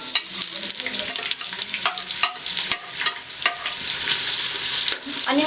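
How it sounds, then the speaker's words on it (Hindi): Chopped onions sizzle in about half a cup of hot oil for beef degi korma, a steady bright crackle with scattered sharper pops and stirring scrapes, close and fairly loud, with no talking. "अब मैं इसके अंदर अनियन डालूंगी।"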